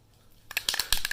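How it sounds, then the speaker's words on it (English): Aerosol paint sprayed onto a car rim from a 2013 Honda Accord Sport in a few short hissing bursts, close and fairly faint. "I got the paint, do a test spray"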